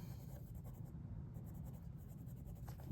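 A Majohn Moonman B25 fountain pen with a fine nib scratches softly across Clairefontaine 90 GSM paper, a faint, close, continuous scraping with small strokes and pauses.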